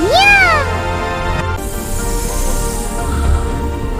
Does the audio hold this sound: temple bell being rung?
no